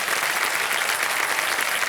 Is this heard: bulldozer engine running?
no